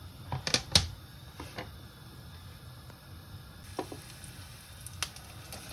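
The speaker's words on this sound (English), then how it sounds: "we're gonna add our finely chopped onions" Finely chopped onions drop into a pan of hot extra virgin olive oil on medium heat, giving a soft steady sizzle with a few sharp clicks and taps, with no talk over it.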